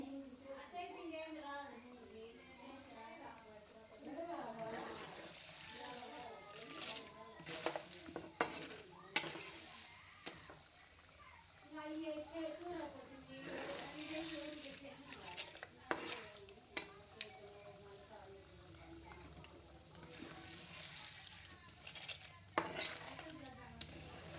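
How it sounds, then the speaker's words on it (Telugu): Chana dal sizzles in hot oil for a tempering while a spoon stirs and scrapes around the pan, with repeated metallic clinks, and someone talks over the frying throughout. "పచ్చెనగపప్పు వేగుతుందండి తిరగమాతకి."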